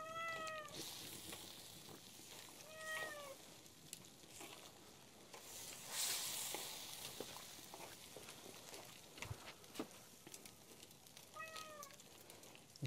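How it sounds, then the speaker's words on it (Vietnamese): A hungry cat meows three times, spaced a few seconds apart, over the steady sizzle and bubbling of food frying and soup boiling on a kitchen stove. "Mèo thì cũng khá là đói, cho mèo ăn đó."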